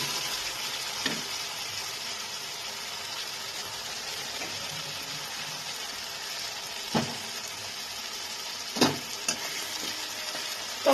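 Thinly sliced tomatoes soften in a hot pan for a fish curry, giving a faint, steady sizzle and bubbling with occasional clinks and scrapes of a stirring utensil, with no talk.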